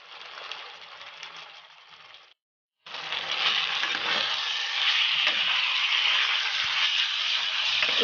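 Chicken pieces frying in a pan with turmeric and chilli powder, a dense hissing sizzle that drops out for half a second and then returns louder and steadier.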